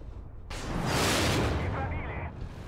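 A tank's main gun fires once in the video game Armored Warfare, a sudden loud boom with a rumbling tail that fades over about two seconds.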